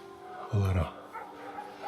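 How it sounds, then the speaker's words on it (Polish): A single short dog bark or yelp rings out faintly from a distance in the hushed night around an abandoned Italian club, with quiet background hiss before and after. "W oddali słyszę psy."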